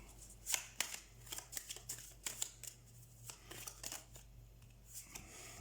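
Tarot cards are shuffled by hand close up, a quiet run of soft riffling flicks and taps in uneven bursts, with no one speaking.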